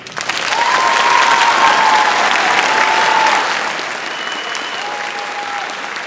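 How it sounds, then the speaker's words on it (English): Students and families applaud school staff at a school ceremony, a dense steady wash of clapping throughout that eases slightly near the end, with a few faint whistles rising above it. "please help me in appreciating, by a round of applause, our wonderful staff"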